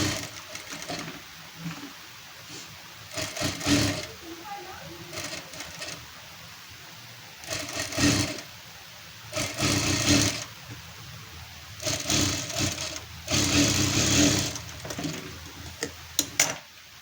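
Bursts of a sewing machine stitching lining into a blouse, quick whirring runs of a second or two separated by pauses, close and moderately loud, with faint handling noises in between.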